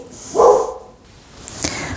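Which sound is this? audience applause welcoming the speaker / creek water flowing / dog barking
dog barking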